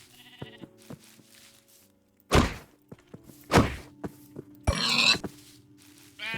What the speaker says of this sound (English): Now some sheeps.